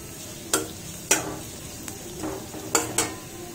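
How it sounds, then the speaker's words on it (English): Vegetables for bamboo shoot noodles sautéing in a pan, a soft background sizzle broken by several sharp scrapes and clacks of a spatula against the pan at irregular intervals. "these veggies are fried nicely. You can say it's saute"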